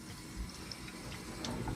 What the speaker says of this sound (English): I want a slow stream before I start trapping the water.